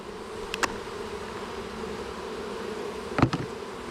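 Honeybees buzz steadily around a light hive on a waterfront, a close, continuous drone with a couple of brief knocks against the hive.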